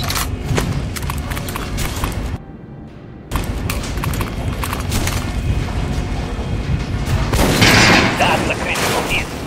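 Repeated gunfire at an armored target in Metro Last Light, dense and loud shots mixed with clanking game effects and a brief silent gap midway.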